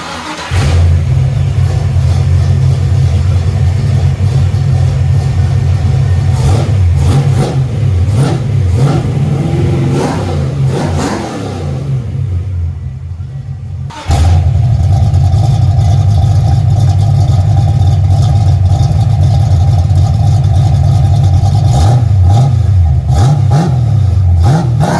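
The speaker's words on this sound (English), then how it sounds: "let me start this car up and rev it a little bit and let you guys hear this car" A 347 Fox Body Mustang V8 on a stand starts up and is revved repeatedly, loud and close, its rough idle swelling into throaty bursts, dropping briefly near the middle before roaring back.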